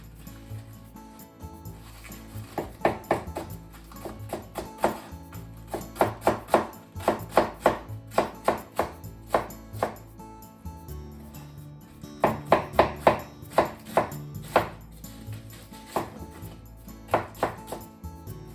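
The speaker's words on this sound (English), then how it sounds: "Cabbage. Cut the core off. Into strips." A knife chops through cabbage on a cutting board, cutting it into strips. Sharp, irregular thuds come in quick bursts with short pauses between runs, clear and close.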